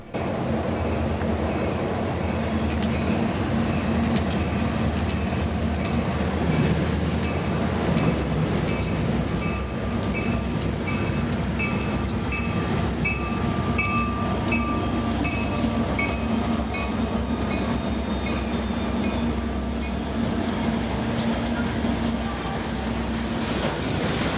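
Reading and Northern SD50 and SD40-2 freight locomotives pass a station with F units nearby, a loud, steady rumble of engines and rolling cars with a sustained high wheel whine throughout.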